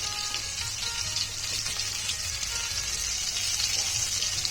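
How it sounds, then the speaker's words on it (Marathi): Pomfret coated in rava and green masala fries in hot oil, giving a steady, close, even sizzle with crackling that runs without pause. "छान तिरकुरू होईपर्यंत हे पापलेट आपल्याला फ्राय करून घ्यायचं आहे"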